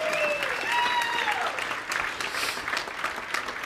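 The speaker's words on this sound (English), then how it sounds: "Let's go ahead and give them all another round of applause because they're awesome" An audience applauds at an online business and web marketing academy event, a steady wash of clapping filling the clip, with some whistle-like tones and a voice faintly mixed in.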